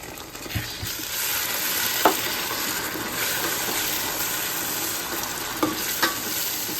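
A tomato-based sauce sizzles and bubbles steadily in a pan for chilli chicken, with a few soft stirring clinks over the constant frying hiss and no talking.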